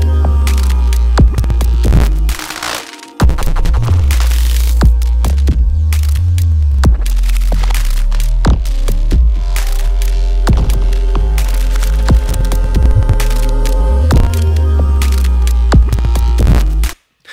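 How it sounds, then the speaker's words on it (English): Glitchy electronic music made with Fracture, Grain Delay and Beat Repeat effects, loud and dense with throbbing deep bass, stuttering repeated fragments, abrupt cuts and a brief dropout, ending in a sudden stop. "I've got all kinds of crazy glitches in here."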